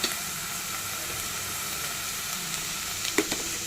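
Tomatoes tossed into a pan of cooked onions for an egg curry sizzle and fry in a loud, steady hiss, with a few light clinks of a utensil near the end.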